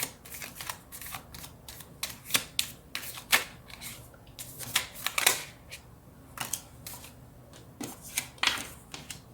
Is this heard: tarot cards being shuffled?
yes